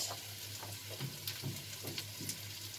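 Potatoes seasoned with turmeric powder and salt frying in a pan, a steady soft sizzle with faint scraping stirs repeating every half second or so beneath a low hum.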